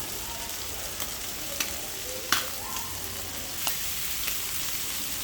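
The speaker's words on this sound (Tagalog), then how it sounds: "At ayan na, nagisa na natin." Garlic, onion and tofu sautéing in a pan for a mung bean stew, a steady close sizzle with a few sharp clinks of a utensil against the pan.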